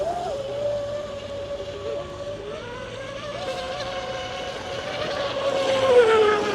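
A motorboat engine drones steadily throughout, a continuous buzzing hum that swells slightly louder toward the end.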